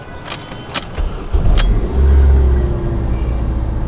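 A car is heard in a storytelling sound effect, with a jangle of keys followed by the engine starting and a steady low rumble close by.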